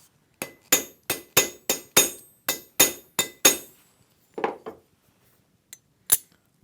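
A hammer taps on a small Japanese hand plane (kanna) being set up, about a dozen sharp metallic strikes in a quick regular series, then a pause and a few scattered lighter taps, close and crisp with no talk.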